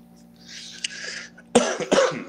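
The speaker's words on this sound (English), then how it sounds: "first I'm going to apologize for this cough" Two strong coughs in quick succession, close and loud, following a soft hissy breath over a low steady hum.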